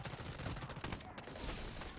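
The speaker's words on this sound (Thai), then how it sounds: "ตรงนี้เสียงปืนอยู่ ข้างล่าง หน้าผมเลย" Rapid bursts of gunfire in the mobile video game Delta Force crackle steadily throughout, dense and close, with a faint voice underneath.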